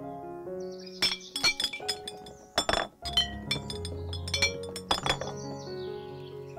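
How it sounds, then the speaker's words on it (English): Glass vase clinking and chiming in a quick series of bright taps and rings, with a few sharper knocks amid a soft musical backing, close and moderately loud. "V for vase"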